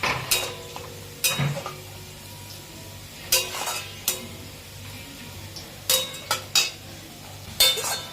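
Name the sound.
stirring and frying spice paste in a pan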